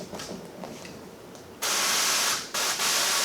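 A carpet extractor's forceful hissing water spray bursts on, runs loud and steady, briefly cuts out, then resumes, close by.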